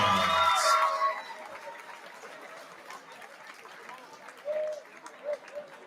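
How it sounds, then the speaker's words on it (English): A boxing crowd applauding after a unanimous decision: a loud opening burst of clapping and cheering with a voice over it, quickly thinning to scattered claps and murmurs, with faint brief shouts near the end. "keep the applause going for England's Rosanna Bycroft."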